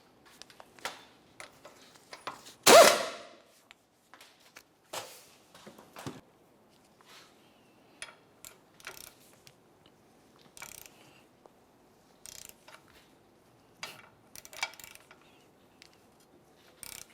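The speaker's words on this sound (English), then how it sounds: "Let's put this bottom nut on here, and then we're going to torque it to 98 foot-pounds." A torque wrench tightens a ball joint nut on a 2001-2005 Ford Explorer Sport Trac, giving scattered soft ratchet clicks and metal taps at close range with one sharper clunk early on and quiet gaps between.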